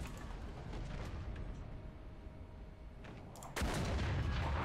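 In War Thunder, a British FV4202 tank's engine rumbles steadily until its cannon fires at a Tiger, one sudden, heavy blast near the end that lingers in a loud, booming tail, with no speech.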